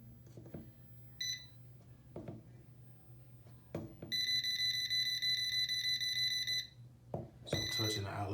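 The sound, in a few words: AC non-contact voltage detector beeping at an outlet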